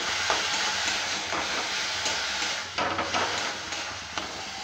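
Spices fry in a hot pan for Melar-style ghugni, giving a dense, steady sizzle with faint stirring scrapes throughout.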